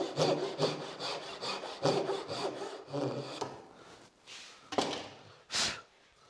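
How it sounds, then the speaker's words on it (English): A pull saw cuts short relief kerfs into a piece of pine, making crisp rhythmic rasping strokes in several bursts, close and clear, with pauses between cuts. "with a piece of pine like this, it's probably worth just doing a few little relief cuts to help"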